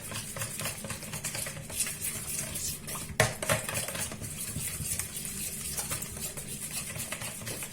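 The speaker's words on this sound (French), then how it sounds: "Je mélange tout ça. Juste comme ça à la cuillère." A spoon stirs a mixture of garlic powder and yeast for scented turnover dough, giving a steady close scraping and swishing with a soft clink of metal against the bowl partway through.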